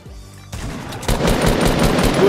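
Rapid automatic gunfire from the Fortnite video game, loud and continuous, building in intensity after a brief lead-in, with no voices over it.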